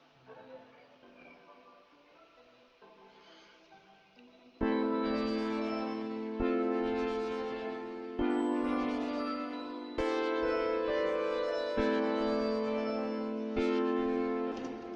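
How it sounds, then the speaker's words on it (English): Piano chords enter over a soft beat, struck about every two seconds in a steady progression and ringing out loudly after a quiet, muffled opening. "Then on top of that, I added a piano, so it sounds like this right into the beat."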